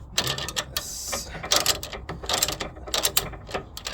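Ratchet wrench clicking in quick bursts while the nut on a 2011 Renault Megane drop link is tightened, the bolt held with an Allen key; close, crisp metallic ticks with short pauses.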